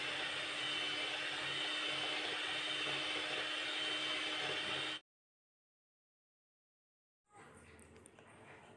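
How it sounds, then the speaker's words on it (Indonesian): An electric mixer at its highest speed beats cake batter with a loud steady whine, cuts out into silence for a couple of seconds, then starts again more quietly. "Kita pakai kecepatan mixer yang paling tinggi ya."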